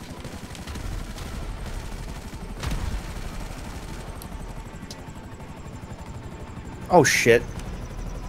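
Bursts of gunfire in GTA V Online crackle over a steady helicopter-like drone, with a brief louder burst near the end and someone speaking briefly.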